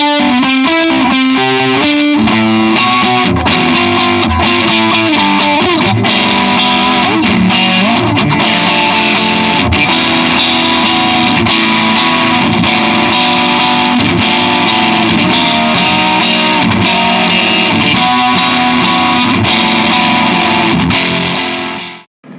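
A Music Man JP6 electric guitar is played loud through heavy distortion, with sustained chords and shifting notes ringing continuously for over twenty seconds before cutting off abruptly.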